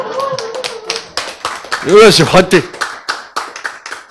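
A person claps their hands at a lecture, sharp irregular claps scattered through a few seconds of close talking and excited voices.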